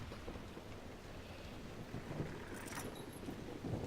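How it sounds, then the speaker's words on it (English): Heavy rain pours down in the Crestwood area of a video game, a steady, dense hiss with low rumbling underneath, continuous and even throughout, with no voices. "And it's still pouring rain."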